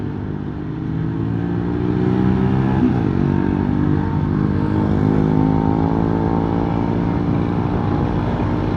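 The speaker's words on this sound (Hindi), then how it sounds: "बहुत ट्रैफिक है यार।" Road traffic while riding a CBR 600 motorcycle, a steady, loud engine drone with layered hum and wind rush that continues without a break, with no talk.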